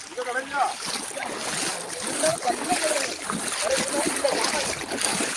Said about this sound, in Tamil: ஆத்து தண்ணி இன்னும் நிறைஞ்சு தண்ணி வருது